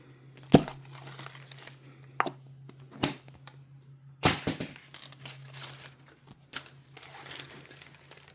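A plastic blind bag from a Zuru Mini Brands Fill the Fridge set is torn open along its tear strip, with sharp crinkling rips in several separate bursts and softer rustling between them, all close up, with no voices.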